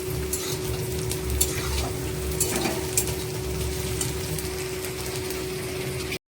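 Fresh bay leaves and onions frying in oil give a continuous, steady sizzle with a few scattered clicks of a spoon, close and fairly loud, over a low constant hum, with no speech.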